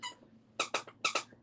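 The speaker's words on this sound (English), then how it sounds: "He has a little squirrel toy that has a squeaker in it" The squeaker inside a dog's squirrel toy lets out a single squeak, then two quick pairs of sharp, close squeaks in a quiet room, no talking.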